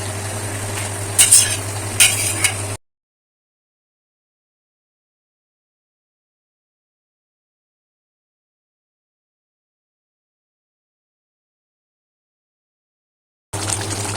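Paneer dropped into frying masala and oil and stirred, a close, steady sizzle with a few clattering stirs at the start, cut off abruptly by a long silence before the sizzling resumes.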